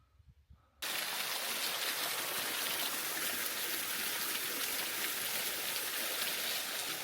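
A waterfall in the green landscape of Madeira, Portugal cuts in suddenly as a loud, steady, close roar of rushing water that holds evenly throughout, with no voices over it.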